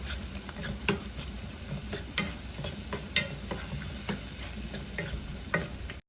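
Masala spices roasting in a pan for desi kankoda shaak, with a steady low sizzle and scattered sharp clicks and scrapes of a spoon stirring through them, close and fairly quiet with no talking.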